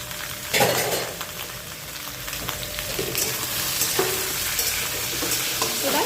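Vegetables fry with salt and turmeric for dudh shukto, a steady close sizzle broken by a few spoon scrapes and clinks against the pan.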